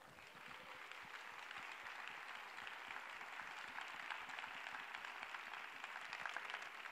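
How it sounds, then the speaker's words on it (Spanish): Sustained applause from an audience at a flamenco night, a steady wash of many hands clapping from start to finish with no voices standing out. "yo voy a pedir un aplauso para mi Tata María Vargas"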